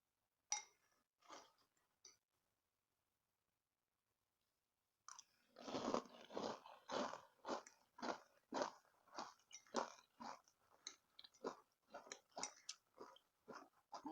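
Crunchy cinnamon breakfast cereal, Nature's Path Sunrise Crunchy Cinnamon, is chewed close to the mouth. A few faint crunches are followed by a short pause and then a long run of loud, rhythmic crunching bites.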